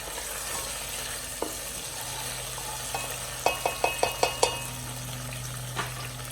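Tomato paste sizzles and fries in a pan while a spoon stirs it, with a steady hiss running throughout and a quick run of sharp clinks and scrapes against the pan partway through.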